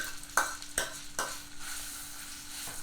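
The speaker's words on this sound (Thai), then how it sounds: "ใส่น้ำมันหมูลงไปนะครับ เดี๋ยวเราจะนำเครื่องแกงลงมาผัดก่อน" Curry paste is stir-fried in pork lard in a pan. Soft, quiet scraping stir strokes repeat over a faint, continuous sizzle, with no talk.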